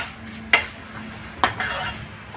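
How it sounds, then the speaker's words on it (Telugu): Vermicelli roasting in a pan while a utensil scrapes and stirs it, two distinct metallic clinks over a soft steady sizzle. "సేమియాను కూడా చక్కగా దోరగా వేయించాలి"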